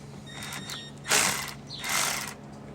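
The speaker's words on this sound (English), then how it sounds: "we're going to go ahead and take off the negative terminal. That's going to be a 10 millimeter" A ratchet wrench clicks close up while loosening the 10 mm negative battery terminal on a Honda Civic Si, light rapid pawl clicks followed by two louder ratcheting strokes, no one talking.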